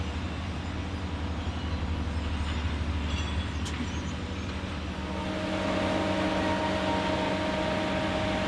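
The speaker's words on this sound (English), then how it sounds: "Rolling up next is a Knox Kershaw Cribber Adzer, which serves both functions its name suggests" A Knox Kershaw Cribber Adzer railroad maintenance machine rolling along the track during rail replacement, a loud, steady mechanical drone and rumble with a brief metallic squeal, swelling slightly as it nears.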